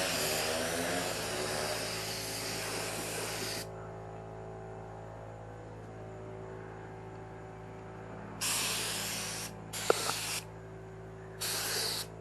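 Compressor-fed spray gun painting the rear quarter panel of a Saturn car, with a loud steady hiss for several seconds, then a humming pause and three short bursts of spray close by.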